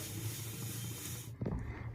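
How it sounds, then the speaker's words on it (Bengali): Onions fry in a small amount of oil in a pan, giving a steady close sizzling hiss that drops suddenly, then comes a brief clatter and softer sizzle. "পেঁয়াজ দিয়ে ভাজতে শুরু করে দিই, মশলাটা করি।"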